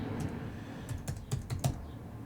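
Keys on a computer keyboard are tapped in a short series of distinct clicks as a funding password is entered, close and fairly quiet over a faint room hum.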